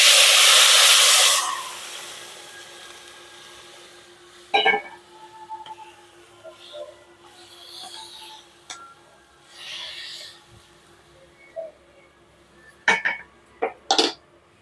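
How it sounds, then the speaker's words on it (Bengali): Water is poured into a hot pan of fried lentils for a vegetarian dal, giving a loud burst of sizzling hiss that fades within seconds into quiet bubbling and a few sharp clinks of a utensil against the pan. "এবার দিয়ে দেবো জল সেদ্ধ হওয়ার জন্য।"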